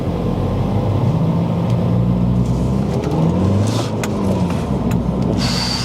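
A tuned BMW with a Darkside Developments tune pulls hard in first gear, its engine droning loudly and rising in pitch from inside the car, with some rattling cabin noise near the end.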